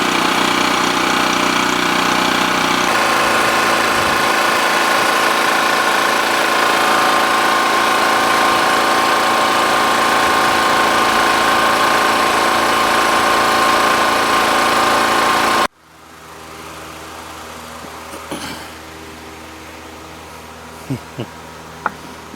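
A small engine idles steadily at a rustic log cabin deer hunting camp, a loud continuous hum that cuts off abruptly, leaving quiet outdoor air with a few faint ticks.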